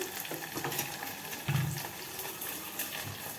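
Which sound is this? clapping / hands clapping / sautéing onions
sautéing onions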